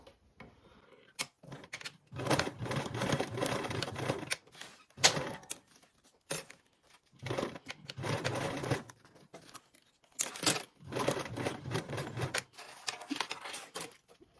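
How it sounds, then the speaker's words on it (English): A sewing machine stitches the sides of a small zippered fabric piece at a 3/8 seam allowance, running in several rapid mechanical bursts separated by quiet pauses, close and clear. "Now sew along these sides with a 3/8 seam allowance."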